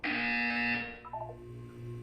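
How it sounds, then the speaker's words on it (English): A loud, harsh electronic buzzer blares in one sustained tone for under a second, then cuts off, leaving faint lingering hum and a few soft tones behind. "You will hear a buzzer."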